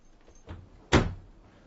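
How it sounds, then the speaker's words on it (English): A door swings shut with one solid thud near the end, preceded by a softer movement sound, close by in a quiet room. "Close the door."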